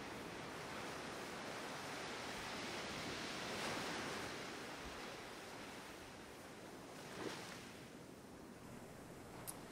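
Ocean waves wash onto a beach in Busan, South Korea, as a soft, continuous surf roar with a couple of gentle swells rising and falling, faint and distant, with no voices.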